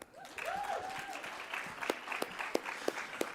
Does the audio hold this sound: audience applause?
yes